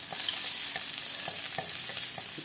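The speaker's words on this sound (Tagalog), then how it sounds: "Pag alam nyo na may mantika, ilag-ilag ang bawang." Garlic sautés in hot cooking oil for ginisang sardinas with papaya, a steady broadband sizzle with periodic soft stirring knocks, close and alone.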